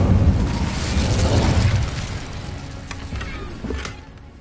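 Casting the Incendio fire spell in Hogwarts Legacy releases a loud, roaring burst of flame that fills the opening seconds, then fades into softer crackling with a few faint clicks.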